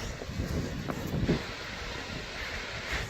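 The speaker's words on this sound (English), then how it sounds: "It's pretty windy up here." Strong wind buffets the microphone in a constant roar with gusty swells on a mountain top near Half Dome in Yosemite, no voices, just rushing air outdoors.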